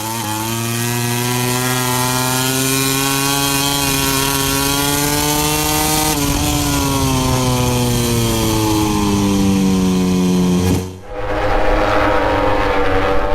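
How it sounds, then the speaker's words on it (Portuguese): A MotoGP racing motorcycle at the Austrian round, recorded from the onboard camera, screams at high revs in a loud continuous wail, pitch sliding and climbing through gears before a brief sharp drop and recovery near the end. "Essa é a imagem da câmera colocada na moto do Miller."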